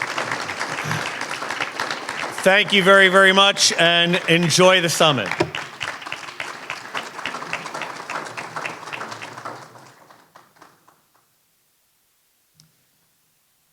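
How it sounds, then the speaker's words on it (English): Audience applause for students at an arts and culture summit in Atlantic City, a burst of clapping under and between a speaker's voice over the public address, fading out after several seconds. "I want to give our students one more round of applause because I just think they're terrific."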